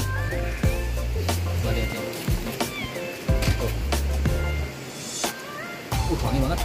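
A cat meows several times near a pile of durians at a Baduy fruit stop, the cries rising over a constant low rumble while people talk nearby.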